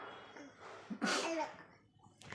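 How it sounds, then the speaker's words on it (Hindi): A child gives a few short, harsh coughs close by, with quieter breathy sounds around them and a brief noisy burst at the end. "खांस के दिखाइयो, खांस के दिखा"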